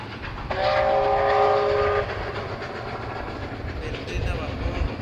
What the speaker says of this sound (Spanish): el tren a vapor